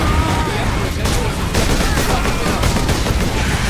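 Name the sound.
gunfire in video game Warhammer 40,000: Space Marine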